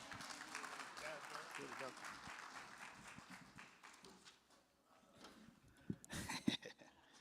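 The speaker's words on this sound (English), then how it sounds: "You guys are clapping for me." An audience applauds a speaker being introduced at a community talk, with faint, scattered clapping that swells near the end. People talk over and around it.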